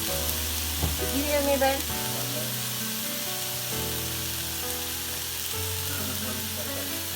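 Venison deer heart frying in a pan, a steady bright sizzle that carries throughout, with a person briefly talking over it and some faint background tones underneath.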